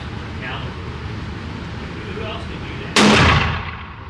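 A Rossi Brawler single-shot pistol in 45 Colt / .410 fires once outdoors, a single sharp loud report that cuts through steady background noise and rings out into a fading echo.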